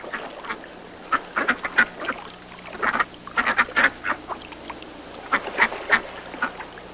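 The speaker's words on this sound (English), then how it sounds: "ducks on the pond" Several ducks quack in irregular bursts on an Arctic pond, some overlapping, at moderate distance with a steady low outdoor hum behind them.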